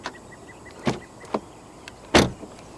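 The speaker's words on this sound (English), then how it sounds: "The windows dip down a little bit as you open the doors." Frameless windows of a 2023 Audi e-tron GT quattro with Dynamic Package dipping slightly as a door opens: a few short, close mechanical whirs and clicks, the loudest near the end, with quiet pauses between.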